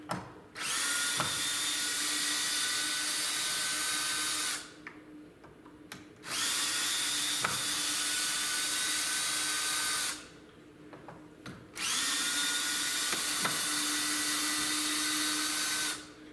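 A cordless screw gun backs screws out of the back wall of a theatre set, sending out three long, steady, high whines of several seconds each, separated by brief pauses, close and loud, with no voices.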